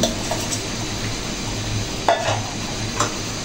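Fried shing fish stirred into a pan of cooked ash gourd and tomato curry: a soft, steady sizzle runs throughout, with brief scraping clatters of the spoon near the two- and three-second marks and no talk.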